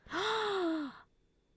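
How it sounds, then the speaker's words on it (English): A single short, breathy gasp from a character in Ace Attorney Investigations 2, rising and holding for under a second before cutting off into quiet, clear and alone. "A gasp."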